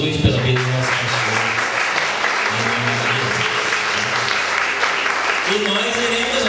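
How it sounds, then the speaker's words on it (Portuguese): Church congregation at a pastor's farewell service applauding together, a dense sustained clapping that fills the room, with voices speaking underneath throughout. "E eu queria que vocês aplaudissem a Jesus pela vida do nosso pastor."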